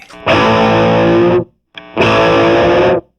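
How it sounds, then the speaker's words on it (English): Two sustained distorted electric guitar power chords, each bent slightly in pitch and then cut off, separated by a short silence. "we're going to do some power chord bending"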